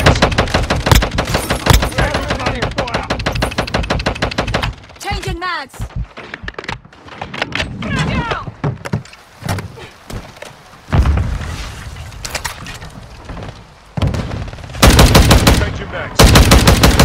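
Bursts of automatic gunfire and single shots in the mobile shooter Call of Duty Warzone Mobile, loud and dense at first, then sparser with a spoken line mixed in, before heavy firing resumes near the end.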